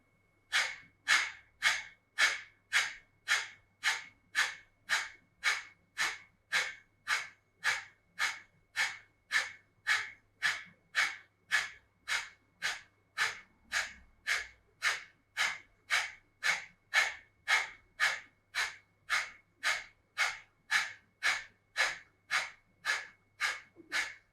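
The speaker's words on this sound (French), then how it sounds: "On se prépare pour Kapalabhati," Kapalabhati yoga breathing: a long steady series of rapid, forceful nasal exhalations, about two per second, each a sharp puff, close and even throughout with no talk.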